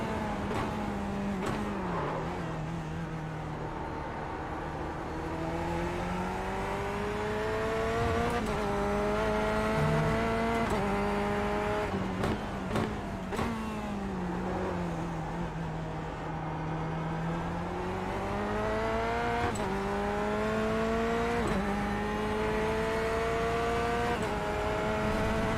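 A race car laps in the iRacing simulator. Its engine hums continuously, rising and falling in pitch through gear changes and corners, with occasional tire squeal, heard close and without talk.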